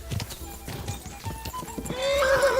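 A horse in the video game Kingdom Come Deliverance 2 gallops with quick, rhythmic hoofbeats, then lets out a loud, high neigh near the end, close and clear.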